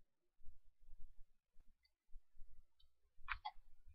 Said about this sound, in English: Click on it and click Open.